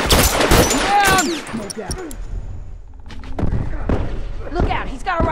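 Rifle gunfire in a shooter game, with loud, sharp shots in an irregular burst mixed with shouting voices and other game sounds.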